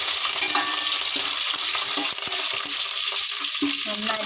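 Curry leaves frying in hot oil for mango pickle, a steady loud sizzle and crackle with occasional stirring scrapes and clinks throughout.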